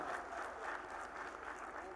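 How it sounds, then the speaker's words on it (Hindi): An audience claps in welcome for Hardik Patel at a public honour ceremony, a short burst of loud, dense crowd applause. "जोरदार तालियों से स्वागत।"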